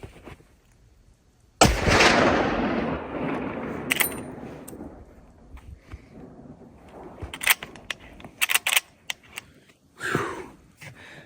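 A Henry lever-action rifle in .45-70 Government fires 405-grain rounds outdoors, one loud booming shot with a long echoing decay, followed by metallic lever-cycling clacks and a few sharp clicks.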